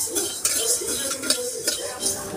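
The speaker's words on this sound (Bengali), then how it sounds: "ধনেটাকে হালকা একটু ভেজে নিচ্ছি।" Whole coriander seeds tossed in a pan for a duck curry with chui jhal, giving soft scraping and stirring with light metallic clinks of utensil on pan, steady and close, with no clear sizzle over the clatter.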